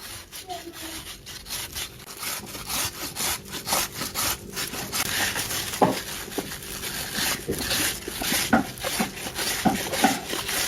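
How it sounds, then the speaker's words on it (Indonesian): Peeled fruit, 550 grams, rubbed against a hand grater, giving a continuous rasping, scraping rhythm of repeated strokes, close and fairly loud, with a few faint background sounds. "Selanjutnya ini mau aku serut pakai serutan kayak gini."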